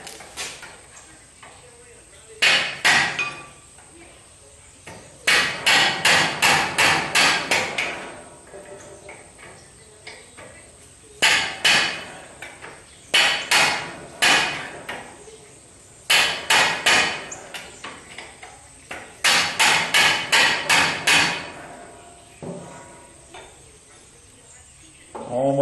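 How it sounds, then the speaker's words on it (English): Clusters of sharp metallic hammer blows from a dead blow hammer on a brass drift strike in quick bursts of four to six, separated by short pauses, close and loud, knocking a parking brake cable from its bracket. "What I've got is a brass drift and my good old dead blow hammer"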